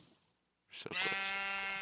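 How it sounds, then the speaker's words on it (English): A single sheep bleat in Minecraft, a sustained wavering baa starting abruptly after near silence, loud and close. "Let's see if I can get this sheep out of there."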